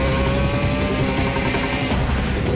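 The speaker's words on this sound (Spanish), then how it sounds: "Se engranan todas las marchas hasta arriba" A Formula 1 car in a simulator game at the 2010 Hungarian Grand Prix screams continuously at high revs, a loud dense engine whine climbing through the gears with no pauses.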